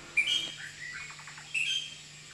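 Birds calling in a park, two sharp high chirps a second apart with a short run of softer rapid notes between, clear and fairly close over a quiet background hum.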